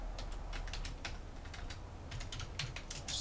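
Typing on a computer keyboard: quick, close clusters of light key clicks in an uneven rhythm over a low hum, with no talking.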